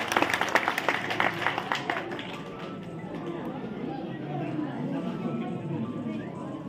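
Loud, rapid clapping from a crowd at a public gathering during a village development tour, starting strong and close, then thinning into a lower, steady murmur of scattered claps and crowd noise.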